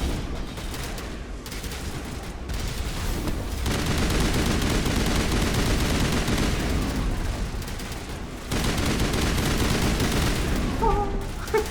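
Sustained gunfire aimed at the Mako vehicle during a Mass Effect combat section fighting Rachni, a dense continuous barrage of shots and blasts that drops out briefly twice before surging back, loud and close.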